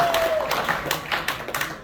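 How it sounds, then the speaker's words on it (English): Sparse, scattered hand claps at a VFW post Memorial Day ceremony, a few people clapping for the cook, close and fairly loud with uneven timing and no voices. "let's have a round of applause for the great meal we have here today"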